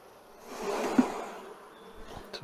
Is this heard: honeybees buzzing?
yes